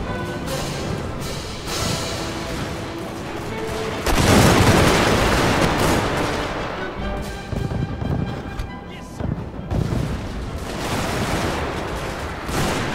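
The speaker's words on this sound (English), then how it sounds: "you see the artillery shooting too" Artillery firing in the Steam & Steel mod video game, loud repeated booms and gunfire crackling continuously through a dense battle din, with a voice talking over it.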